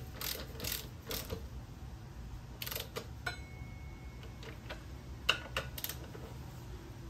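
Ratcheting wrench tightening the front wheel bolts on a Honda Goldwing to torque, a few quick clicking bursts and a sharp metallic tick over a quiet workshop background, no talking.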